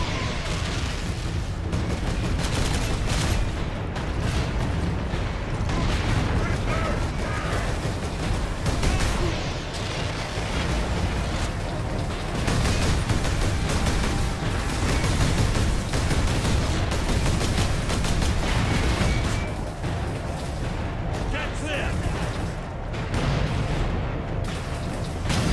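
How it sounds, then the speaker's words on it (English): Relentless gunfire and booming artillery from the Warhammer 40,000: Space Marine battlefield, a dense, loud barrage of overlapping shots and blasts that runs without a break. "Shots."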